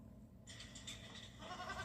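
Goats bleating in a TV advertisement for a law firm, a faint series of nasal bleats over a low background hum, no talking heard.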